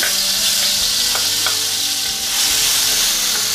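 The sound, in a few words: black soybeans frying and sizzling in hot oil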